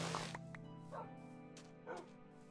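Dogs in Minecraft give a few short, close yips and barks spaced apart over a steady low hum of game ambience.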